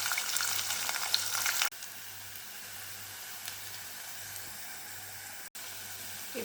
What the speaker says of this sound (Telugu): ఆనియన్స్, పచ్చిమిర్చి వేసుకొని